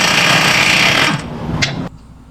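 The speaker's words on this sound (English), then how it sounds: "I'll work on this axle nut now." A loud, close power tool, likely an impact wrench, rattles hard on a car axle nut in a repair shop for about a second, then stops with a brief metallic clank.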